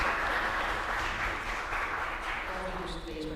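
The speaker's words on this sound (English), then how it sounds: "give a round of applause to our moderators" An audience at a sovereign wealth fund seminar gives its moderators a round of applause, a steady, fairly loud wash of clapping filling the whole stretch.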